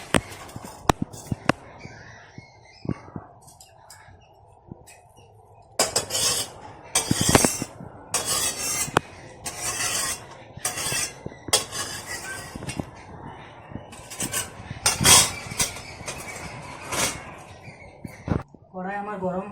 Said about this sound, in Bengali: নামিয়ে জলটা ছেঁকে নিচ্ছি।